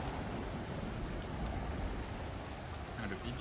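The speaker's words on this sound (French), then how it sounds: "Le bip-bip est infâme." In the survival video game Stranded Deep, a shrill electronic alarm beeps in repeated pairs, a regular double-pulse pattern over a noisy background with faint talk.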